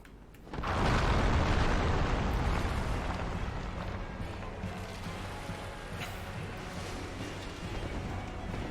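An explosion attack in the video game Dark Souls bursts in suddenly and loudly, then settles into a long rumbling roar that slowly fades while staying heavy, with no talk over it.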